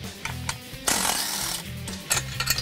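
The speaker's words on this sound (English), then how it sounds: "you can remove the two nuts that hold the factory downpipe to the bracket" Power tool spinning off the two nuts that hold the factory downpipe to its bracket on a 2015-2019 Mustang EcoBoost, short buzzing bursts with a longer whir in the middle, close and alone.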